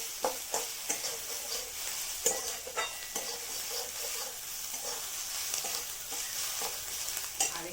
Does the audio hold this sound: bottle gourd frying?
yes